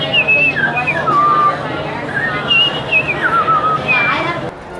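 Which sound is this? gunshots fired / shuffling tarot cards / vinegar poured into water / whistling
whistling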